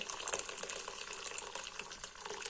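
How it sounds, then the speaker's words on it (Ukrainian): Boiling water is poured over cut potatoes in a pot, making a short, continuous splashing gush at moderate volume. "Картоплю порізала і заливаю окропом."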